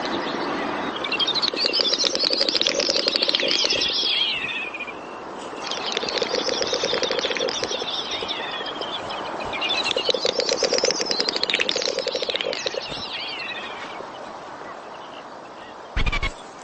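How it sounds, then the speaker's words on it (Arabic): A snipe calls from low in a valley with loud, repeated bleating, warbling bursts that come in three long phrases separated by short pauses, with no voices. "في أسفل الوادي يجتذب نداء طائر الشنقب الانتباه"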